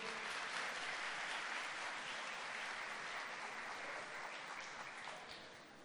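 Steady applause from a church congregation fills the space, dense and even throughout, easing slightly toward the end with no voices over it.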